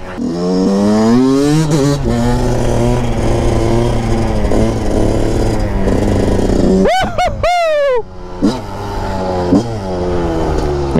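Yamaha YZ 125 two-stroke motorcycle revving hard on a road and climbing through the gears, its loud, buzzy whine rising and dropping with each shift, then a brief gap before a sharp burst of revs and renewed acceleration.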